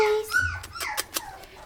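Two-and-a-half-week-old chow chow puppies whimper and squeak in short, high, wavering cries close by, several overlapping yelps over about two seconds.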